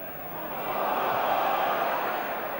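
Large football stadium crowd at Aberdeen against Bayern Munich in the Cup Winners' Cup quarter-final, swelling into a loud shouting roar that peaks midway and stays high, with a broad, distant wash of voices.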